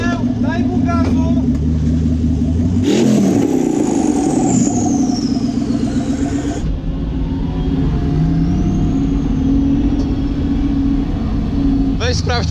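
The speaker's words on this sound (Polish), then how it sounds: "Paweł, daj mu gazu." BMW E30 344 with a V8 biturbo engine revving at a service stop during a drift session, a loud sustained engine roar that swells and falls with a sharp high whine, under speech.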